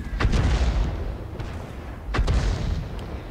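Two heavy, booming artillery shots from an SU-5 self-propelled gun in World of Tanks, about two seconds apart, each with a low rumbling tail, over a constant background drone.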